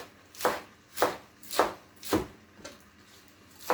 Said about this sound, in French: je vais couper comme ça, grossièrement